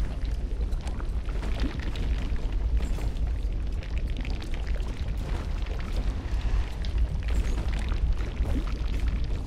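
Fire eruptions in the video game Dust: An Elysian Tail roar as a dense, continuous rumble that stays loud throughout with no talk over it.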